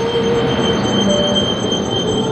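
A train runs along the rails in the evening, its wheels squealing over a steady, loud rolling rumble that carries on without pause.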